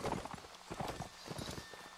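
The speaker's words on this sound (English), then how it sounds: "Alright guys, follow the horse." Horse hooves clip-clop in a quick, steady gallop in the video game Mount and Blade Napoleonic Wars, fairly faint and mixed with game noise.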